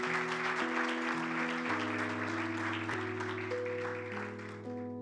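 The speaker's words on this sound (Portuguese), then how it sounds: "Dá uma salva de palmas." A church congregation applauds during a service, a busy wash of clapping that carries throughout over sustained keyboard chords that change underneath.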